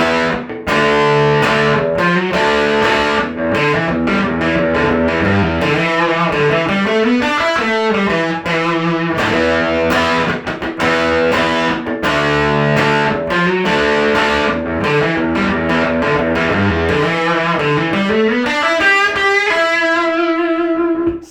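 Distorted electric guitar plays pentatonic licks in standard tuning, a continuous loud run of bent notes and fast phrases that ends on a sustained chord.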